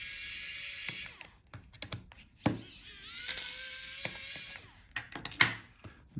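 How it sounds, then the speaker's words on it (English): Small screws being backed out of the speakers inside an HP Envy x360 14 laptop, a series of close, faint clicks and ratcheting scrapes from the screwdriver in short bursts, with no talking. "So take out these screws."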